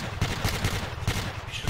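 Rapid video game gunfire crackles in a dense stream of repeated shots, loud and close, with bursts overlapping.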